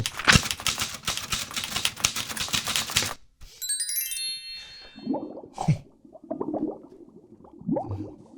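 Rapid mechanical typewriter keystrokes clatter densely for about three seconds, followed by a bright bell ding and then a few scattered, softer clunks and clicks.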